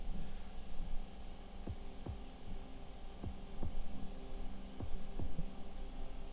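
A clothes washing machine drones in the background with a low, steady hum and soft periodic thumps, quiet and continuous.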